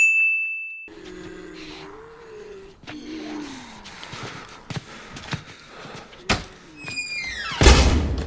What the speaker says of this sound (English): Loudly slams the door behind them unnecessarily.